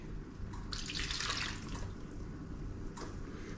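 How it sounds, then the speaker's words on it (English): Stock poured into cottage pie mince in a pan gives a steady splashing, trickling stream near at hand, heaviest early and then settling into a softer wash of liquid. "put the stock in"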